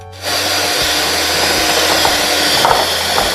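An electric mixer whirs steadily and loudly, beating cake batter for banana and raspberry bread until pale and creamy, a constant close motor drone with faint clicks of the beaters against the bowl.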